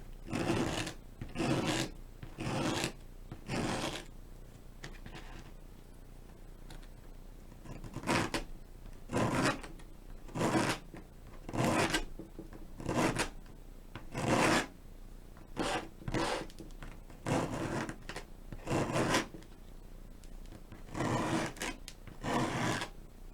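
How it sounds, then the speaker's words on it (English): Rhythmic back-and-forth rasping of a sanding block on wood, close up, in steady strokes with short pauses between them. "And now I'm just going to sand it with my sanding block"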